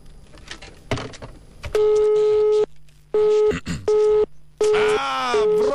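Telephone busy tone after a rejected call: a steady beep pulsing on and off in several evenly spaced bursts, loud and close, following a stretch of talk and rustling.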